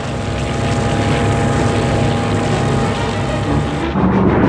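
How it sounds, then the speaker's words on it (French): A German Stuka Ju-87 dive bomber, the tank-busting variant armed with a 37 mm cannon, drones with a steady, loud propeller-engine roar that holds for several seconds with no talk over it. "pour soutenir les Panzers de Manstein, la Luftwaffe va mettre en ligne le Stuka Ju-87, casseur de chars"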